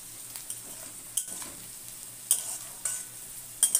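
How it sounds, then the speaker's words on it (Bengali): Onion, green chilli and ginger sizzle in a pan with rice as a spoon stirs and scrapes, giving several sharp clinks and scrapes over a steady frying hiss, close and alone. "তারপরে আমি পেঁয়াজ, কাঁচা লঙ্কা আর আদা ভেজে নিয়ে তারপরে আমি রাইসটা দেবো"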